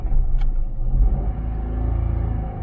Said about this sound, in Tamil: வண்டி ஸ்டார்ட் பண்ணுறேன்.